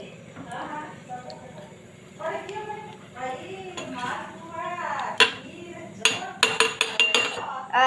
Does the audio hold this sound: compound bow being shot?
no